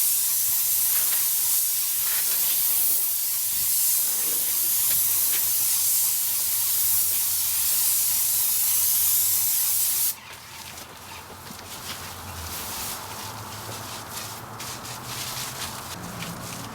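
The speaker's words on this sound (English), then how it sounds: "The guy spraying's got to put on a lot of paint to actually have it saturated" Paint sprayer spraying a heavy coat of paint onto exterior house stucco, a steady close broadband hiss that runs loud and continuous, then drops to a quieter, rougher spray partway through.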